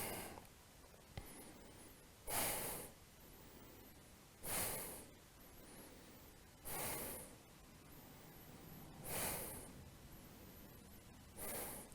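Slow, deliberate breaths are drawn during a yoga pose in a short vinyasa flow. Five soft, close airy breaths come evenly spaced about two seconds apart over a quiet background, with no talking.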